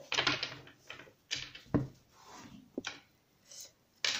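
A tarot card deck being cut, with dry papery rubs and shuffling swishes in short bursts plus a few sharp close taps, heard alone.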